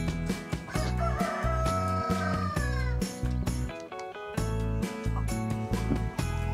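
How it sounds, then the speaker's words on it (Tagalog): Dominant CZ layer chickens at 24 weeks crow loudly and repeatedly nearby, with clucking between the calls and no talking. "Muna ni sila ang dominant CZ nga manok at week 24."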